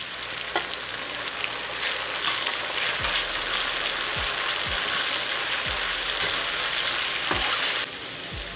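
Tomatoes fry for burong hipon, a Filipino fermented shrimp and rice dish, making a dense, even sizzle that carries on steadily for several seconds, with a few low thumps, before easing slightly at the end.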